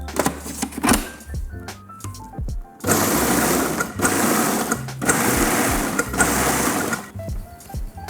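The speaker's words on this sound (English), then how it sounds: "we're going to take all the inside of the vegetables that we scooped out earlier and we're going to pulse them up" Food processor pulsing scooped-out vegetable insides into puree for Greek stuffed vegetables, a few short whirring bursts and then a longer loud motor run, close by, with clatter between pulses.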